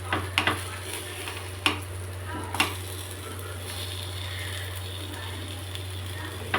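Fish fries on a tawa with a steady close sizzle under a low hum, punctuated by several sharp metallic clacks and scrapes as the pieces are flipped with a spatula.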